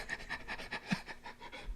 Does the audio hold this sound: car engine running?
no